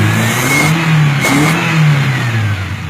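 A Mazda Lantis 1.8 engine revs up as the throttle is opened, climbing in pitch, easing back and rising again, loud and close with no talk over it.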